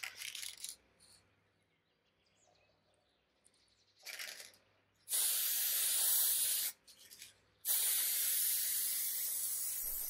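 Polyurethane finish sprayed onto a restored wooden table in several loud, close hissing bursts of varying length, separated by short pauses and quieter gaps.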